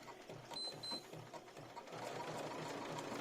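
Embroidery machine stitching out lace motifs, a steady fast mechanical chatter of needle strokes with faint whirring, running continuously and close up with no talk.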